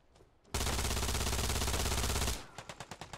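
Machine gun fire in the WWII shooter game Hell Let Loose: a loud, sustained automatic burst of about two seconds, then a rapid string of separate shots.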